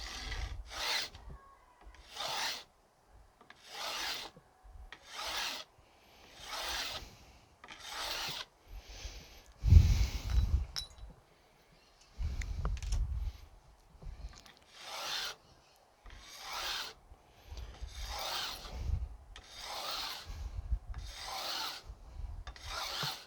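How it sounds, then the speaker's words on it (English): A beveling file rasps along guitar fret wire ends during a refret, in steady repeated strokes about once a second, close and moderately loud with no talk. "Back to the beveling file."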